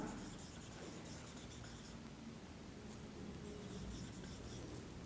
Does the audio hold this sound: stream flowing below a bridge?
no